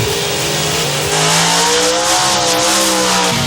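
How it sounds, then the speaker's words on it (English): Nitrous-powered 1990 Beretta drag car with a 615 cubic inch Chevrolet engine roars loudly and continuously, engine note climbing as it revs hard at close range, with no talk over it. "Here come the next two cars. It's a 1990 Beretta, 615 cubic inch Dalton Automotive Chevrolet prepared out of Charlotte, North Carolina, nitrous powered."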